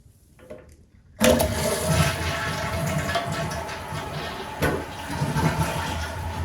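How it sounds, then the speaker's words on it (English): A Mansfield toilet flushing with its tank cover off, the flush starting abruptly after a quiet moment and then rushing and gurgling steadily as the water drains and refills. "I'm going to leave the cover off just to show you what it all looks like when it's in motion after pressing that flush lever"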